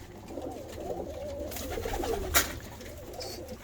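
Norwegian breed pigeons coo up close in low, rolling, repeated calls, with one brief sharp click partway through.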